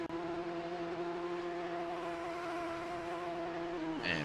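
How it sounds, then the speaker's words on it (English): A loud race car engine in a multiclass endurance racing video game at Feldbergring holds a steady, high, buzzing drone throughout, with a brief pitch shift near the end and no talk. "That is one loud engine noise."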